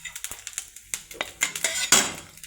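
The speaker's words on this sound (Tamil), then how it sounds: "கொஞ்சம் மிளகு, கொஞ்சம் ஜீரகம், கொஞ்சம் சோம்பு போட்டுக்குங்க. அதை சும்மா ஒரு வதக்கிக்கிங்க." A utensil clinks and scrapes against a pan while pepper, cumin and fennel are sautéed, in a quick run of light, close metallic taps that grow busier toward the end.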